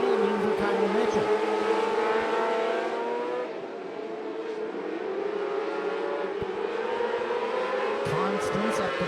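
600 mini sprint race cars circle a dirt track, their engines droning at a steady mid-distance pitch that swells and dips slightly as cars pass, with an announcer's voice calling the race over the top.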